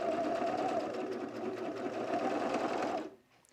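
A serger runs in a steady, rapid whir for about three seconds while stitching a pajama pants pocket, close and continuous, then stops abruptly into near silence.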